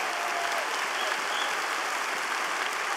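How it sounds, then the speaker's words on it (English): Church congregation applauding together in hand claps of praise, a dense, steady wash of clapping held at a constant level for the whole stretch with no voices on top. "Give the Lord a hand clap of praise."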